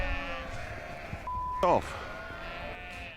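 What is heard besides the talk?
sheep bleating on a farm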